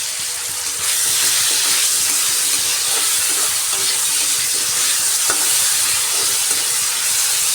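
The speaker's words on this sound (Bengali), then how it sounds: "আলুগুলো ভেজে নিচ্ছি।" Potatoes frying in a salted pan give a loud, dense, steady sizzle and hiss that swells after the first second and holds evenly, with faint stirring scrapes underneath.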